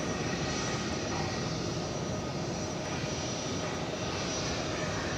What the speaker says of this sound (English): this 757 coming in may be our oldest plane of the evening